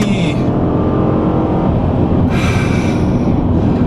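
Car engine revving hard in the upper rev range during a 0-60 mph run, loud and close, with a shift break partway through and someone talking over it; Honda Crosstour or Fiat 500 Turbo.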